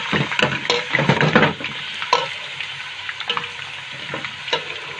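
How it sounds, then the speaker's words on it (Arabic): Shawarma meat fries in a pan while being stirred, giving bursts of sizzling crackle and repeated scraping strokes of a spoon, busiest at the start and then settling into lighter, intermittent stirring, near and unaccompanied by talk. "هقلب كويس جدا"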